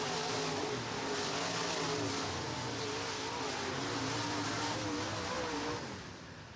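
Dirt track race cars roar down the back straightaway at Northwest Florida Speedway during a heat race, a loud sustained engine howl rising and shifting before easing off slightly at the end.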